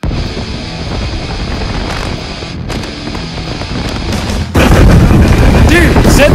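Fireworks go off inside a porta potty outdoors. Blustery wind rumble on the microphone is followed by a sudden, loud, muffled blast and a roaring burst that fills the final seconds.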